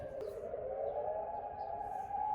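A warning siren sounds in Jordan as a steady, sustained wail that holds for the whole moment, moderately loud and slightly distant, with a faint voice briefly under it.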